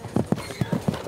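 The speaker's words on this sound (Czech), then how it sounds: "Holštínsku registrovaný hřebec Esman je dalším potomkem hřebce Darka" A registered Holsteiner stallion's hooves clip-clop in an even rhythm, about five to six close, distinct hoof strikes in quick succession.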